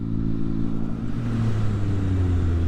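A 2016 Triumph Speed Triple R motorcycle accelerates hard, its engine note a steady, loud, rising drone with layered harmonics climbing in pitch, close and continuous with no talk over it.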